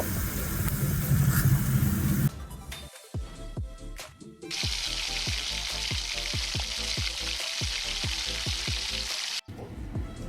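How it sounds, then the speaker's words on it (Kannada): Two tablespoons of coriander seeds roasting in a pan for a GSB-style masala, a steady dry sizzle and hiss with repeated scraping stir strokes, close and continuous throughout with brief pauses. "ಎರಡು ಟೇಬಲ್ ಸ್ಪೂನಷ್ಟು ಕೊತ್ತಂಬರಿ ಬೀಜಗಳನ್ನು ಹಾಕಿ ಚೆನ್ನಾಗಿ ಹುರಿದುಕೊಂಡು"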